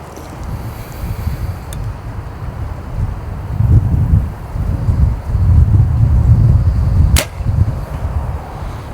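Strong gusty wind rumbles and buffets the microphone outdoors at archery practice in Oklahoma, rising and falling in heavy low gusts, with one or two sharp arrow-like snaps cutting through.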